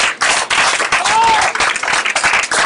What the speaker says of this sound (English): I need you to give God a round of applause.